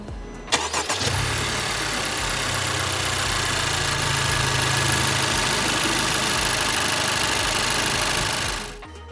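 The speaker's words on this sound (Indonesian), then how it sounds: "Tapi ya kurang lebih suara starternya itu seperti ini." A 2021 Honda Civic RS engine cranks briefly with the starter, catches and settles into a steady, even idle for several seconds before the sound cuts out, heard up close with no talking.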